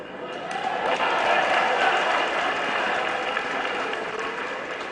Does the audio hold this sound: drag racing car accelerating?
no